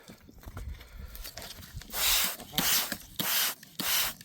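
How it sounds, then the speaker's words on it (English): Hard scrubbing on a rock face while rockhounding in the high desert of central Oregon, with four loud, broad rasping strokes in the second half following quieter scattered scraping and handling noises. "I'll get this face scrubbed down a little bit."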